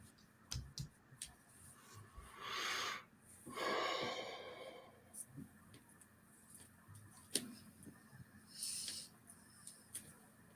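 Artie, a pet, snores through a quiet room: two long, raspy, breathy rumbles, then softer snorts and sniffles at irregular intervals, close to the listener.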